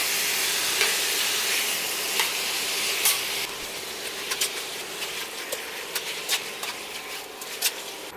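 Beef for a Szechuan stir-fry sizzles in a pan, first a loud steady hiss that then settles down to a softer sizzle with scattered pops and crackles, close and without talk.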